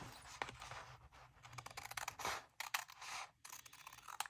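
Paper is trimmed with scissors at close range, a run of crisp snips and scraping cuts in irregular bursts, with brief pauses between strokes.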